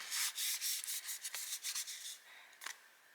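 Tarot cardstock rubbing and sliding with a soft, swishy matte texture, a close run of gentle brushing strokes followed by a few small taps, quiet and without speech.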